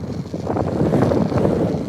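Wind buffets the microphone of someone cycling into a headwind on a cold road, a steady loud rumbling roar that swells and stays dense throughout.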